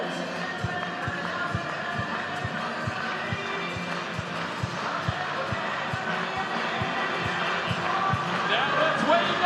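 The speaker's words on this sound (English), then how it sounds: "Clap those hands." A stadium crowd at a Savannah Bananas game claps in a steady, even rhythm of sharp beats, with a broad crowd murmur and some cheering underneath.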